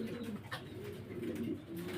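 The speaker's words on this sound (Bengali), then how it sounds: "এখানে একজোড়া পার হোমা কবুতর আছে" A pair of homer pigeons coo softly and close by in a quiet setting, a few low throaty calls in a row.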